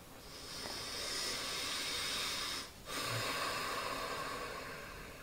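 Slow pranayama breathing, a long airy inhale through the nose followed by a brief pause and an equally long hissing exhale, close and steady with no talking.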